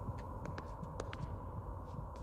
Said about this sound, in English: Do you hear the heartbeat?